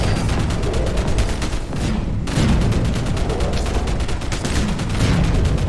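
Rapid bursts of gunfire rattle almost nonstop in the video game 7th Sector, loud and dense, with a brief lull partway through before the shooting resumes.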